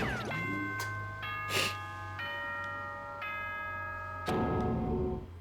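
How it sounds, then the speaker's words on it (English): A chime plays in the Danganronpa 2 video game, a sequence of clear, sustained bell-like tones in stepped pitches with a few brief percussive hits between them, loud and alone. "That chime just now."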